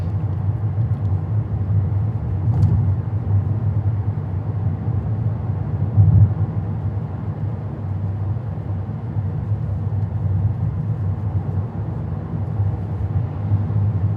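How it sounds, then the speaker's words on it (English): A car drives up Boswell Avenue in Greeneville, Norwich, Connecticut, heard from inside as a steady, loud low engine and road rumble with a brief bump partway through. "We're driving up Boswell right now."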